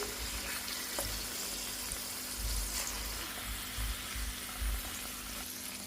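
Tomatoes fry in a pan for a tomato chutney, giving a steady, soft sizzle with faint crackles and low bubbling throughout, and no talking.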